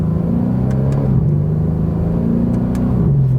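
A 2017 Mercedes-AMG C63 S Coupe Edition 1 engine rumbles loud and close in a steady drone, with pitch dips marking quick paddle-shift gear changes while driving gently.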